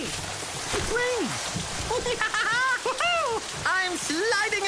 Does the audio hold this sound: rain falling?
yes